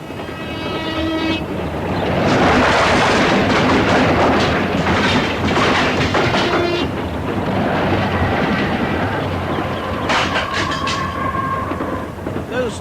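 Sound effect of a train rushing past in a radio drama: a loud, sustained roar of wheels and rail rumble lasting over ten seconds, with a horn-like tone near the end and no talking.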